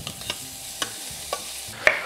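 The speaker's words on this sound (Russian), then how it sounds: "Перемешаю морковку с луком." Carrots and onion are stirred in a pan while making zucchini preserves, with a few distinct scraping strokes spaced roughly half a second apart over a soft, steady sizzle.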